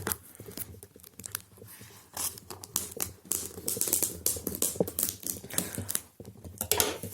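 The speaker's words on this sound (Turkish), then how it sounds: "Bir de açabilirsem bu paketi yırtmadan parçalamadan açabilirsem çok iyi olacak." A plastic package shipped from China being handled and opened, with crisp crinkling, tapping and tearing bursts in an irregular patter, fairly close and loud, with no voice.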